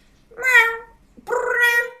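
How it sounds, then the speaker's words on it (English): A house cat meows twice right into a close microphone, two drawn-out tonal cries separated by a short pause, loud and intimate. "she's like purring right into the microphone"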